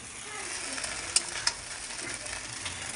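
Chowmein stir-frying in a pan, a steady broad sizzle and fry with a couple of sharp clinks of the utensil against the pan partway through, continuous and fairly close.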